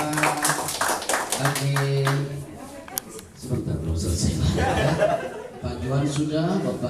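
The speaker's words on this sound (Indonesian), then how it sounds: "Tepuk tangan untuk Bapak kita" Training-session audience giving a participant a round of applause, scattered claps mixed with chuckles and laughter, with people talking over it throughout.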